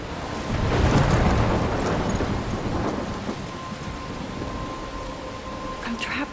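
Thunder rumbles heavily through steady rain in the video game Life is Strange, a deep roll swelling loud early then fading under continuous rainfall.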